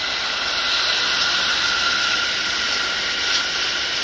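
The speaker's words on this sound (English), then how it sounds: "here comes the train" A train passes near a fishing spot by the water, its steady broadband rumble and rolling clatter holding fairly constant and unbroken, with no speech over it.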